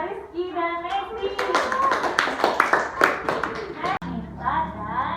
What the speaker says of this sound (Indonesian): Tepuk tangan dong untuk kelompoknya Rizky dan Messi